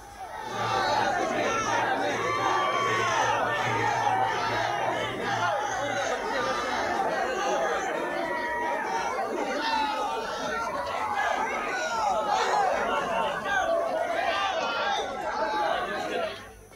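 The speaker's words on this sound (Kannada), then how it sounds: "ನಾಮಿನೇಷನ್ ವೇಳೆ ಪ್ರತಿ ನಾಯಕರ ಹೆಸರು ಕೂಗಿ ಕಾರ್ಯಕರ್ತರು ಜೈಕಾರ ಹಾಕಿದರು" Party workers crowd together at a by-election nomination filing in Sira, a dense, continuous babble of many voices shouting and cheering close by for the whole stretch.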